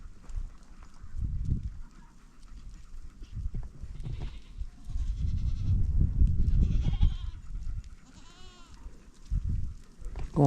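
Spanish goats bleat in a few wavering calls amid shuffling and rustling of animals nearby, with a low rumbling background.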